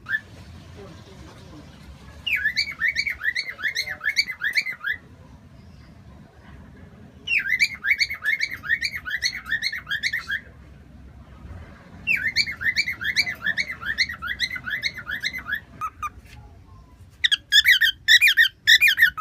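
A young pet bird sings in repeated bursts of rapid, high trilling chirps and warbles, close and clear, with short pauses between phrases and faint background noise.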